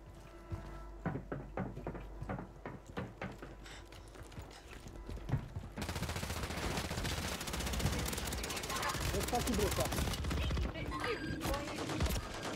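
Shots from a Warzone 3 match ring out as a quick series of sharp bursts, then give way to a dense, continuous wash of in-game combat and movement noise at moderate loudness.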